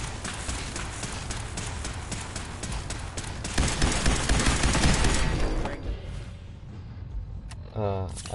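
Rifle fire in the Fallout 4 video game: a fast run of sharp shots rattles over a busy, noisy game soundscape, swells into a dense burst of fire and then thins to scattered sounds toward the end.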